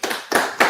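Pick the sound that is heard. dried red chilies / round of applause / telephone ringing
round of applause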